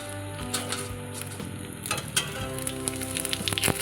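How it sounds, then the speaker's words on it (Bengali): Cumin seeds and bay leaves tempering in hot oil for a Bengali koi fish curry, a close, steady crackling sizzle that flares louder toward the end, with no voices. "এখানে আমি জিরে তেজপাতা ফোড়ন দিলাম"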